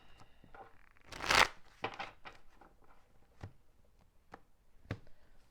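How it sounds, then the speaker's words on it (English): Tarot cards being shuffled by hand, a loud riffling burst followed by scattered soft taps and flicks of cards settling, close and without voices. "Let's go ahead and get a couple more shuffles in."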